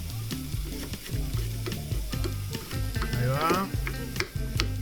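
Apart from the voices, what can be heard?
sautéing bell peppers with onions in a pan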